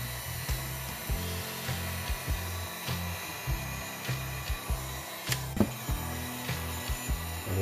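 A heat gun blows hot air onto the rubber cap sole of an Air Jordan XX3 during a reglue, a steady fan roar with a rhythmic series of low thumps and knocks running through it.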